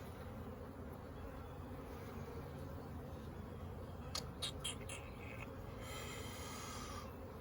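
Honey bees swarm and buzz around an open hive during a brood chamber inspection in April, a steady dense hum throughout with a few louder passes near the microphone.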